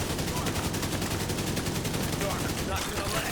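Dense, continuous video game gunfire rattles in rapid bursts, loud and close, filling the whole stretch with a dense crackle and no clear pause.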